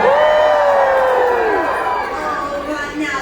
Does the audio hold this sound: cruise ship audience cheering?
yes